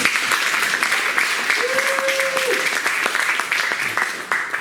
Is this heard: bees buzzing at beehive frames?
no